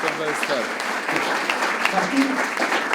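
Applause from an audience gathered for a talk with a priest at Strojna, steady scattered clapping over about three seconds, with a few voices mixed in.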